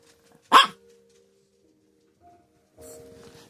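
A Chihuahua lets out one sharp, loud bark up close, then some faint whimpering or yipping follows after a pause, in a carpentry shop.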